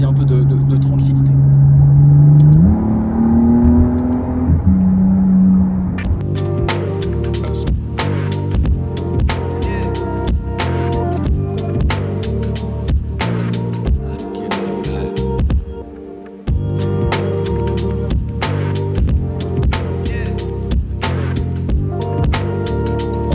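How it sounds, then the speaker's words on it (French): A McLaren Artura's hybrid V6 engine starts up with a rising hum, then settles into a loud, close, throbbing idle with regular pulsing beats; a voice may be talking over it. "Parce que quand le V6 démarre, là, ça y est."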